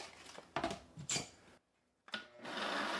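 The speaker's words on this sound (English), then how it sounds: "I'm going to add this entire package of strawberries into my blender here, and we're just going to puree these until they're completely pureed and smooth." A kitchen blender purees a full package of strawberries, whirring in loud bursts that cut out briefly and then roar back into a steady, close blending noise.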